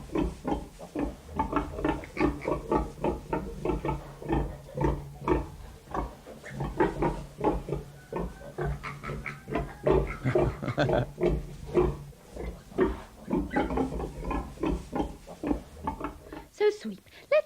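A sow and her piglets grunt and oink on a farm at feeding time, a dense, busy run of close, rhythmic snorts and squeals that continues throughout.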